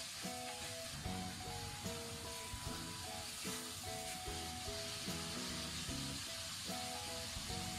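Flipped small squid searing on its second side in hot vegetable oil: a continuous close crackling sizzle with bursts of spitting, mixed with soft background music.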